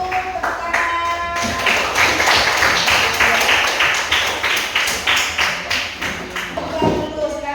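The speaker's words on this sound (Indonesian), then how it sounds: "Tepuk tangan." Classroom group claps for a student team after its presentation, a mix of individual sharp claps and rhythmic patting close by, uneven and lively throughout with no talk.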